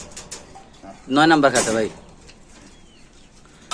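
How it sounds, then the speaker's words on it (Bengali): Caged pigeons at a pigeon sale give soft cooing calls in the background while someone talks loudly over them, with one brief, stronger burst in the middle. "এখানে আছে এক জোড়া কবুতর 9 নম্বর খাঁচা ভাই।"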